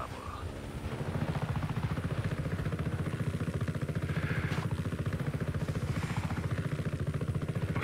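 A helicopter in the video game Just Cause 3 thumps out a loud, rapid, steady rotor beat that swells in after a second and keeps a constant mechanical clatter, with no talk over it.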